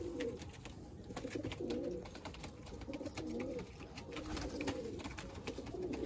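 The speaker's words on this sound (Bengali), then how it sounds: "খুব সুন্দর পায়রা।" Madrasi pigeons in a loft give soft, repeated rolling coos in steady bursts, fairly close, over a faint background hiss and occasional light clicks.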